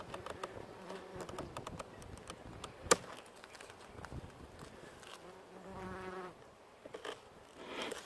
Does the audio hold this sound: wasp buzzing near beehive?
yes